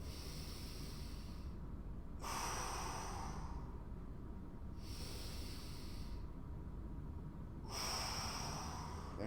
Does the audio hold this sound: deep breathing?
yes